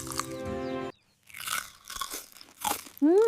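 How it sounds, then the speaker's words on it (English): Hot street-food corn being eaten, a few sharp crunchy bites and chewing sounds close up, separated by short quiet gaps, with a brief whistling tone at the end. "This corn is so crunchy"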